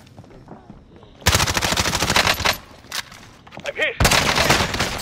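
Loud machine-gun fire in a Warzone match, long sustained automatic bursts, pausing briefly and then opening up again, with a voice shouting over the shots.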